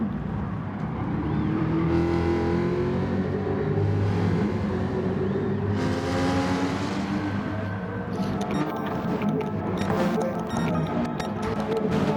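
Race cars, including a Porsche and a Jaguar, roar continuously around the track in Gran Turismo, with overlapping engine whines shifting pitch as cars pass and accelerate, loud and sustained throughout.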